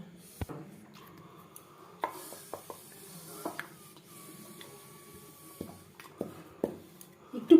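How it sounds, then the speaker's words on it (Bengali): A knife cuts momo dough into small pieces for homemade chicken momos, giving sharp, irregular taps on a board, some isolated and some in quick pairs, close by over a quiet background. "ছোট ছোট আকারে লিচি কেটে নেব"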